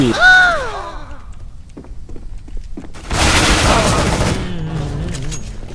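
Gunfire rattles in the video game CS:GO as a loud, rapid burst of shots that lasts a couple of seconds, after a brief stretch where a voice is heard and a few quiet clicks.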